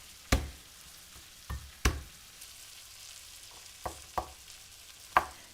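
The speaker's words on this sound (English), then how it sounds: "you just want to stir it around to break up the onion so it cooks nice and quickly" Onion frying in a pan for vegan Hakka noodles, stirred with a few sharp scraping knocks of the utensil against the pan at uneven intervals over a faint sizzle, close and moderately loud, no talking.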